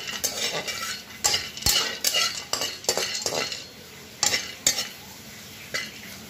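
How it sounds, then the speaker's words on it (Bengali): Whole spices fry together in a wok over a low gas flame, with soft sizzling broken by repeated sharp scrapes and clinks of a metal spatula against the pan, close and without talk. "সব একে একে মশলাগুলো এই কড়াইতে দিয়ে দিয়েছি, একাঙ্গী, তাম্বুল আর ঘোরবোজ সব একসাথে ভেজে নিচ্ছি।"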